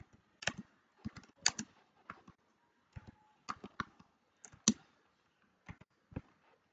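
Text is typed on a computer keyboard in a quiet room, with scattered close key clicks coming in small quick clusters separated by brief pauses.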